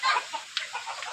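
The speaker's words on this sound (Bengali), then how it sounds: "ও এই মুরগিটার নাম কি? সিল্কি, সিল্কি, সিল্কির মতো পশম" Silkie chicken clucking at an animal park, a few short, close clucks and soft calls in an irregular pattern, moderately loud with no talk over them.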